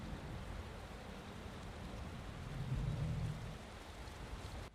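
Rain falls over barren soil in the horror video game Carcass, a steady soft hiss with a low rumble swelling briefly near the end, quiet and continuous with no voices.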